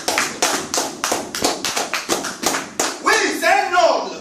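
A church congregation claps in praise of Jesus, giving about a dozen sharp, evenly spaced claps in a steady rhythm, loud and close. A voice calls out over the final claps.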